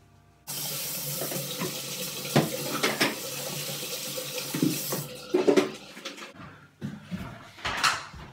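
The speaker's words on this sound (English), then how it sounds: "I'm gonna wash my hands first because I'm hygienic" A kitchen tap running while hands are washed before cooking burgers, a steady close gush of water with splashes and a brief pause before the flow resumes, no talking.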